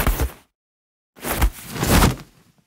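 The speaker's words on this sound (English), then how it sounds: "and clothing sound effects for grapples and movement." Clothing movement effects for grapples in the Fire Force anime: a brief fabric rustle, a pause, then a longer swishing, rubbing burst of cloth that swells and fades, close and without speech.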